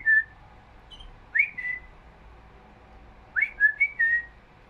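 A caged pet bird gives short bright whistles in two bursts, a couple of notes first and then a quicker run of rising and falling whistles, clear against a quiet room.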